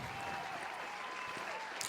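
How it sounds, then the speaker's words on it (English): Applause rolls continuously from a crowd, a dense even patter of many hands clapping at moderate volume. "Damn, that's loud applause. All right, let me turn it down."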